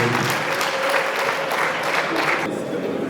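A seated audience applauds steadily, a dense wash of many hands clapping at once that holds throughout, with some voices mixed into the crowd noise.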